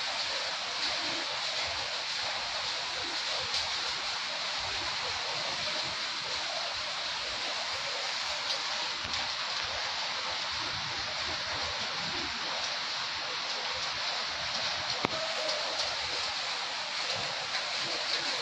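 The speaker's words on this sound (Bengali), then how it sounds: "এখনও বৃষ্টি ধারা অব্যাহত" Heavy rain pours steadily in stormy weather around Islampur, a dense, unbroken hiss of falling water that stays loud and even throughout, with no voices.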